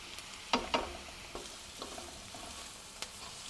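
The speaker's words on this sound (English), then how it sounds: "So I diced those up all about the same size, and we'll let them cook a little bit until they are tender." Diced onion and vegetables fry in oil in a pan, a soft steady sizzle broken by a few sharp clicks and scrapes of stirring, close and fairly quiet.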